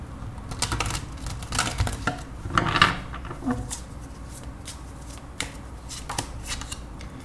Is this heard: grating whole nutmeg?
no